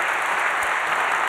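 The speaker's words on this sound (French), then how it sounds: "Vous pouvez également l'applaudir," An audience at a CNRS award ceremony applauds in a dense, even wash of clapping that continues unbroken throughout.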